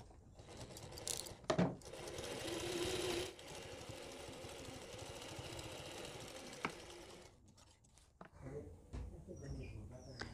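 A sewing machine runs a basting stitch around a kurti neckline, with a quiet, rapid mechanical whirring in steady bursts and short pauses, plus faint handling clicks, heard close up.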